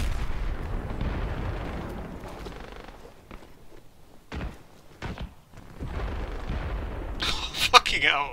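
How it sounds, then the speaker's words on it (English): An airstrike in the shooter Dirty Bomb sends a series of deep, rumbling blasts that rise and fall over several seconds. Sharper impacts and faint gunfire are mixed in, and people talk intermittently over the noise. "That's a good airstrike."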